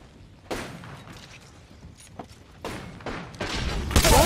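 Mozambique shotgun firing in the video game Apex Legends, several sharp blasts scattered over a few seconds amid faint background game noise, growing louder near the end.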